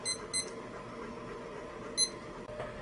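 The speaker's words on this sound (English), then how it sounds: "our timer has gone off" A kitchen timer set for 15 minutes during a pathology lab slide preparation goes off with short bursts of high electronic beeping, two quick pulses near the start and another a moment later, over a steady room hum.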